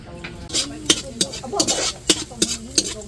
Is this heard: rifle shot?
no